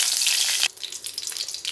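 Curry leaves hit hot oil with mustard seeds for lemon rice, a loud crackling sizzle that drops suddenly, then keeps spitting and popping more softly nearby.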